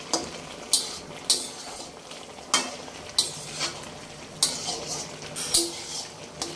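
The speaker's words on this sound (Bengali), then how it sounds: "আমি এবারে নেড়ে চেড়ে কষে নেব।" Hilsa fish and cauliflower curry being stirred and fried in a pan, with a steady sizzle under repeated scraping strokes of a spoon against the metal, close and moderately loud.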